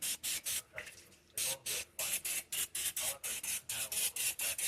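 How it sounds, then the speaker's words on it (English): Short hissing bursts of cooking oil sprayed from a can onto the tops of food before covering with plastic wrap, a quick rhythmic run of about fifteen close, loud sprays with brief gaps. "Then you just spray the tops a little bit."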